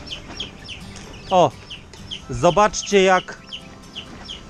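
Young chickens feeding from freshly served food, giving a few clear clucks and chirps in separate bursts close by, with a soft farmyard background and a brief spoken word.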